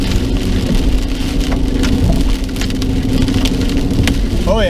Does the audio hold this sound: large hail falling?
yes